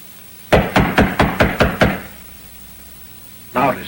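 Seven loud, sharp raps on a wooden door in quick even succession, followed after a pause by one more heavy knock, close and dry in a quiet interior.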